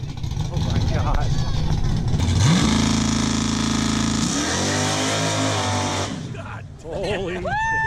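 A 2015 ZL1 and other cars at a burnout show rev hard and loud. The engine note climbs and holds steady with strong drone, then drops and rises again as the car roars through the burnout, with crowd noise and voices underneath.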